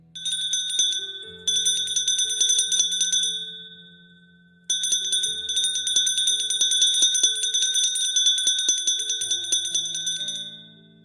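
A small, bright bell rings as a ship's danger signal, struck in rapid repeated trills with a clear metallic ring, in two long bursts separated by a short gap, close and loud with no voices.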